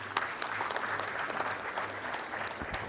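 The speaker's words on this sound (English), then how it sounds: "So give India a big clap." Audience at an awards ceremony breaks into applause, a dense, even wash of clapping heard throughout at a steady moderate level.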